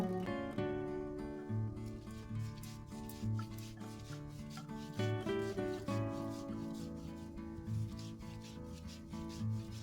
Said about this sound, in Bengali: এদিকে নিম পাতাগুলো শিলে বেটে নেব